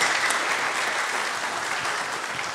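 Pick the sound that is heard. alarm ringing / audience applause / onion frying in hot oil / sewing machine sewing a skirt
audience applause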